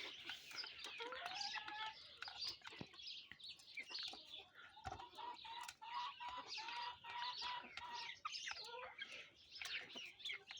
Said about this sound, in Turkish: Arap tavuğun yavruları